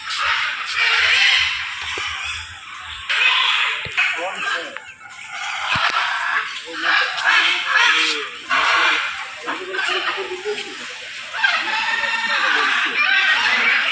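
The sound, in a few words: birds chirping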